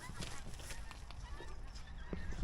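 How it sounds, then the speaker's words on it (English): Geese honk repeatedly overhead amid steady outdoor rumble, calls scattered and moderately distant, no talking. "that's more geese going over"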